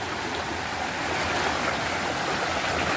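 Stream water near Dhamapur village rushes and splashes steadily around someone wading through it, a continuous close broadband wash with no voices.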